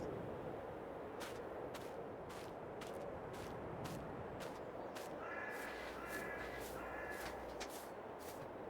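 Crow calls ring out in Farming Simulator 22, a series of short, evenly spaced caws over a constant background hiss, fairly faint and distant, with no voices.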